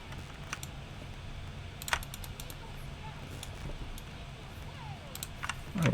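Computer keyboard typing during a game session, with scattered key clicks and short bursts over a steady low background hum, fairly close and moderately quiet.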